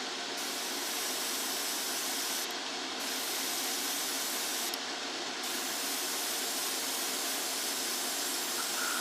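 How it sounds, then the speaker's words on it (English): An airbrush sprays thinned Tamiya paint onto a 1:35 scale model figure, giving a steady, close, continuous hiss that carries through the whole stretch with brief shifts in tone. "Tamiya paints spray beautifully if you've got them properly thinned."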